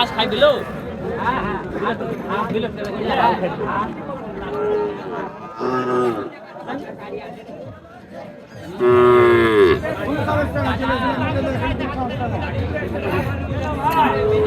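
Cows with calves moo loudly and repeatedly nearby, long drawn-out calls over a busy background of people talking and crowd chatter at a livestock market in Chowbaria, Naogaon, Bangladesh.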